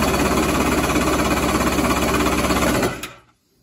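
A Kawasaki X2 jet ski engine with carburetor issues runs with the choke on, giving a loud, close, rapid buzzing rattle that stays steady for about three seconds, then cuts off abruptly into quiet.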